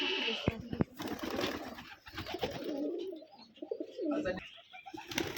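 Rajshahi Giribaz pigeons on a farm loft coo in repeated soft rolling calls. Wing flaps and other sharp bursts break in near the start, and faint voices can be heard in the background.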